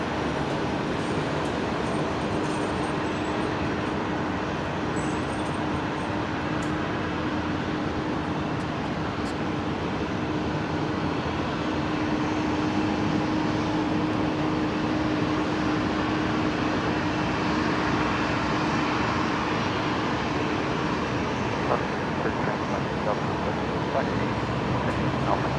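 A Qantas airliner arriving from Melbourne at Brisbane Airport gives off a steady, broad roar that holds for the full stretch, with a faint voice or radio chatter running underneath.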